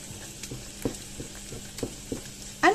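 Corn, black beans and shrimp cooking in a pot, a soft steady sizzle and bubbling with scattered faint pops and a small clatter at the end.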